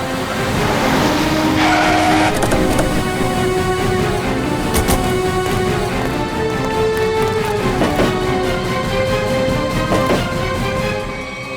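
A car driving in a TV crime drama scene, engine and tire noise loud and steady throughout, with a brief squeal-like rise and tonal music layered over it, no speech.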